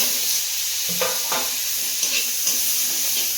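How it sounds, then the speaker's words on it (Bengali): Onion pieces dropped into hot oil while cooking magur catfish, giving a steady close sizzle with a few sharper crackles and stirring scrapes, no talking. "পেঁয়াজটা দিয়ে দেবো"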